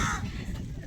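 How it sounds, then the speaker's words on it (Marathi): A single crow caws once, nearby and fairly loud, a harsh short call over a low background hum. "कावळा आलं बघ आवाज येते काही"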